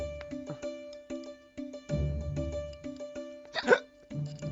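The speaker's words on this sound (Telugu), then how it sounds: "అదేంట్రా అన్నయ్య 2 సార్లు వినబడుతున్నాయి ఎక్కిళ్ళు?" Sharp hiccups jolt out repeatedly at uneven intervals in a Telugu film scene, close and distinct against a quiet room with a low background hum and no talking.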